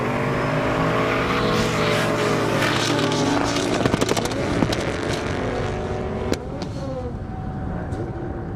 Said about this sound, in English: That beautiful Factory 5 replica coming back.